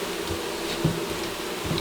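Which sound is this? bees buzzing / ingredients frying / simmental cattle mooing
bees buzzing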